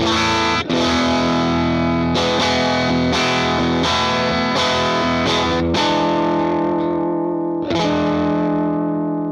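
An electric guitar plays through a UAFX Ruby amp pedal on its first extra cabinet voicing, heavily distorted, with a series of loud strummed chords that ring and decay, one about every second.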